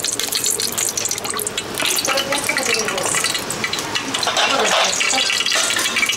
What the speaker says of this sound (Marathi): चला आता पहिला आपण ना फोडणीला तेल टाकूया।